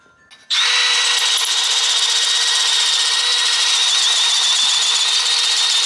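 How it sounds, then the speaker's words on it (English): A power drill starts up abruptly and runs steadily at high speed, drilling a hole while changing the differential on an E36, a loud, close whine that continues without a break. "So next process is drilling this hole out here."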